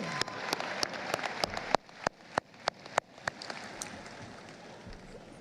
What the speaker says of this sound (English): Let's give our parents and families a round of applause.